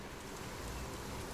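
Rain falls in What Remains of Edith Finch, a soft, even hiss of steady rainfall throughout the short moment, with no voices.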